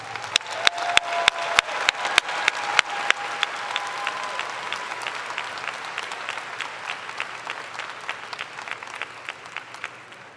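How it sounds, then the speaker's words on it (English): Audience applause fills an arena at a commencement ceremony, opening with a few sharp nearby claps over a broad wash of clapping that stays steady and slowly fades across the stretch. "Let's give them a round of applause."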